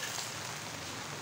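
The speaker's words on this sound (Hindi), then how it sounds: "देख इससे पता चल रहा है कि बारिश कितनी तेज़ हो रही है।" Heavy rain falls in a steady, dense hiss of drops on surfaces, faint and continuous with no break.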